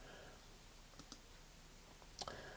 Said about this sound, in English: Click on Explore here